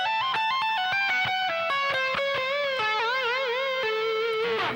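Distorted electric guitar plays a legato section, with rapid, evenly spaced hammer-ons and pull-offs that step downward before the whammy bar dips and wobbles the final sustained note.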